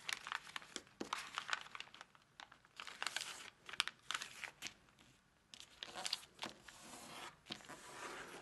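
Origami paper folded diagonally in half, giving a run of close, crisp crinkles and sharp creasing crackles in irregular bursts, with no voices.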